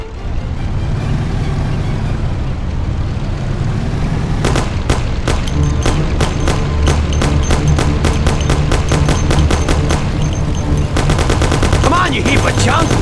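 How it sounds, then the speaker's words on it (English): Thompson submachine gun fire in the Mafia video game: bursts of rapid, loud, close automatic shots over a steady engine rumble, with a denser burst near the end. "Take my Thompson! You and Sam shoot them!"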